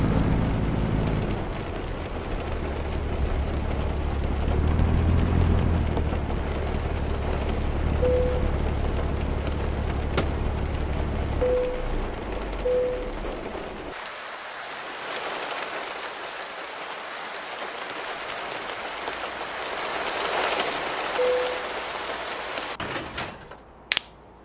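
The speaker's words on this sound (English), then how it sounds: "please stop raining, please stop raining, please stop raining." Rain in a truck driving video game featuring a 2021 Kenworth T680 NexGen, a steady hiss of rainfall over a low engine hum with a few brief tones, then softer rain after a sudden shift midway.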